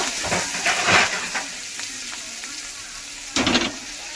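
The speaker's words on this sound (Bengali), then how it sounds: "ভালো করে পেঁয়াজটাকে লাল করে ভেজে নেব" Chopped onions frying in oil in a wok give a steady close sizzle, broken by a few louder bursts of stirring and scraping near the start and again toward the end.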